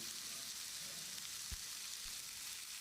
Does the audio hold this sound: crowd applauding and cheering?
no